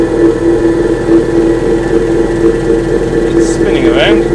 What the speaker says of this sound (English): So we're going to go with a 10-second polish on that. Switch it on.